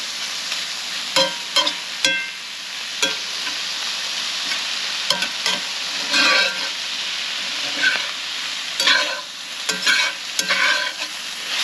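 Deer heart pies cooking in a pan give off a continuous hissing sizzle, with occasional louder scrapes and bubbling spurts scattered throughout.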